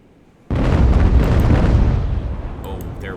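A single ship's cannon fires in the naval battle game Ultimate Admiral: Age of Sail, a sudden loud boom that rumbles on and slowly fades, with faint background noise before it.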